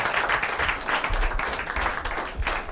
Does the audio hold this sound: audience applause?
yes